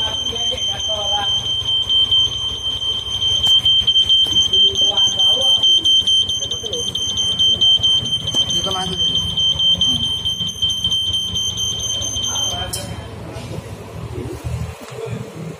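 A Yamaha NMAX 155 scooter's keyless smart key alarm sounds loudly and nearby as a continuous high electronic tone with rapid pulsing, with a low rumble underneath, then cuts off near the end as people talk.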